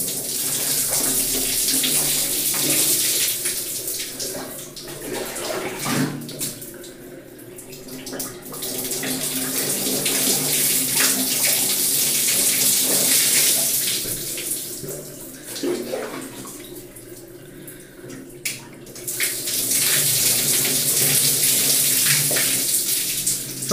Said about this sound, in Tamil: தலைக்கு வந்து இப்படியே வாஷ் பண்ணுங்கள்